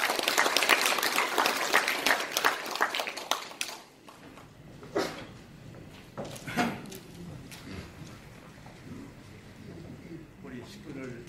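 An audience at a Korean organization's gathering bursts into applause, a dense crackle of many hands that fades after a few seconds, leaving a murmuring room with scattered voices.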